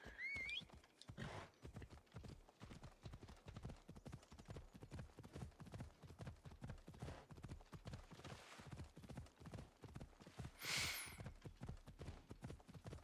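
Horse hooves clip-clopping in Assassin's Creed Odyssey, a long run of regular hoofbeats in a steady trotting rhythm that fills the whole stretch, with a short whinny near the end.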